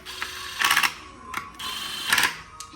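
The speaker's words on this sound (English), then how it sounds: "So we'll start with the 10 millimeter bolts on the top." On a VQ37VHR engine, 10 mm bolts on top are tightened with a ratchet, heard as two close bursts of rapid clicking separated by brief pauses.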